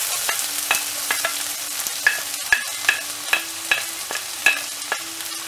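Chopped onions frying in a pan for a fenugreek leaf kara kuzhambu, a continuous oily sizzle under regular, close scraping strokes of a spoon that tick along at an even pace.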